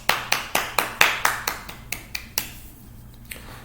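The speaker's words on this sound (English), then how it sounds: "Give all of our flag bearers out there a round of applause." A small number of people at a school morning assembly clap for the flag bearers: sparse, distinct hand claps, fairly close, in an uneven rhythm that thins out and fades toward the end.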